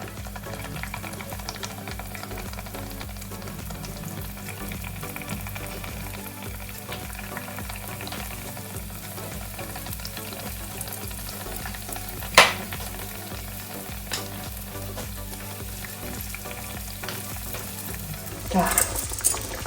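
Sweet crumpets deep-frying in oil in a deep pan give a steady, close sizzle and crackle throughout, with a sharp clink near the middle and faint scraping toward the end as a fork turns them.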